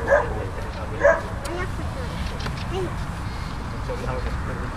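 A dog gives a couple of short, sharp barks near the start, then the rest stays quiet under low background noise, with someone talking nearby.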